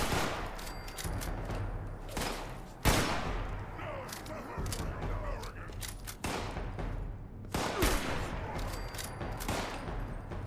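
Gunfire in the Fallout 76 video game, several sharp loud shots spread across the stretch with rumbling between them, a voice talking over parts of it.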